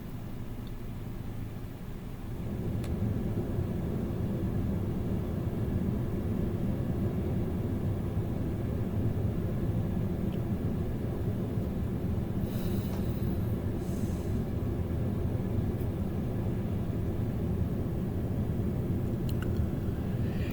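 Small airplane droning steadily in flight over a rough, rutted dirt runway in Alaska, a continuous close engine hum filling the whole stretch with no talk.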